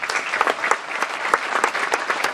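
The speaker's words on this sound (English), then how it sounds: "Can we give them a big round of applause?" Audience applause in a lounge venue aboard the cruise ship Anthem of the Seas, a brief burst of individual claps that stays fairly close and uneven, with sharp separate hand strikes standing out.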